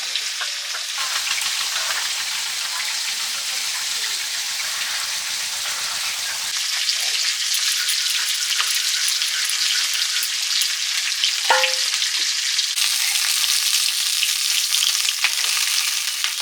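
Pond-caught fish fry in oil in a pan with a dense, continuous crackling sizzle, close and steady, with a low bubbling undertone early on and a few sharper pops later.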